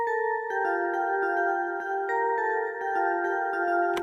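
Layered bell synth melody from Electra X doubled up an octave, bright sustained tones with repeated struck notes changing pitch in a steady rhythm, clean and alone.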